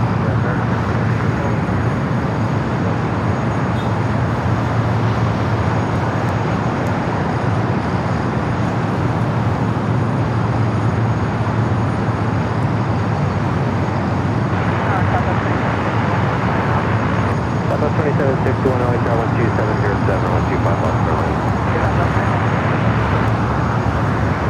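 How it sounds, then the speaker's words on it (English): American Airlines Boeing 777 taxiing at LAX, a steady broadband jet engine rumble and roar that holds throughout at moderate distance, with a low hum and faint voices under it. "American 777 continuing his taxi down Bravo"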